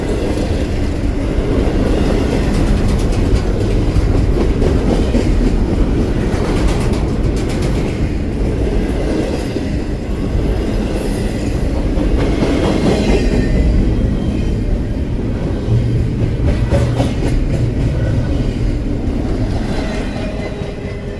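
The tail end of a long freight train rolls past at a Galesburg–Fort Madison railfanning spot, a steady loud rumble with rhythmic clickety-clack of wheels over rail joints and faint squeals, without any voices.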